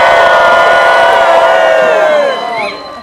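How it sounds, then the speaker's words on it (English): A large crowd at a university commencement ceremony screams and cheers loudly and continuously. The roar holds steady, then fades slightly at the end. "can I hear you scream just a little?"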